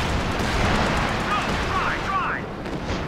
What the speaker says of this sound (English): that's actual artillery on me